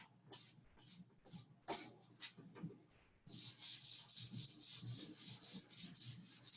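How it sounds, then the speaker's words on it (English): Fingers rub over paper to shade a drawing of draped objects, making a close, soft, steady scrubbing with quick repeated strokes, then a denser run of rubbing, and no talk. "I'm going to take my dirty fingers and I'm going to rub up here a little bit."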